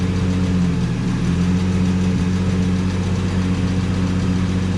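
An abandoned 1948 Studebaker, revived after sitting for 35 years and running a little rich, idles with a steady, loud low rumble and an even mechanical drone throughout.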